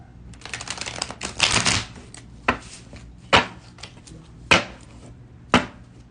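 A deck of essential oil cards is shuffled in a quick flurry of riffling, followed by several separate sharp snaps and taps as single cards are pulled and set down, close and fairly loud.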